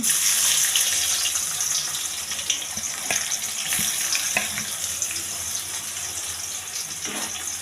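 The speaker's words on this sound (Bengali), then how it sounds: "তারপরে দিয়ে দেবো পেঁয়াজ কুচি" Chopped onions hit hot oil with whole garam masala and cumin and fry with a loud, bright, hissing sizzle that eases gradually, with a few scattered utensil taps.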